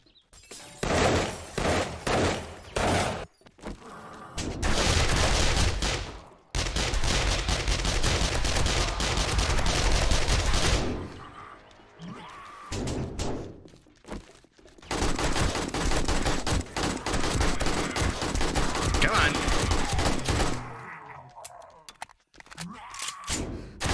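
Long bursts of loud automatic gunfire from 7 Days to Die, aimed at a vulture, roar in sustained volleys separated by brief pauses, with someone speaking now and then between them.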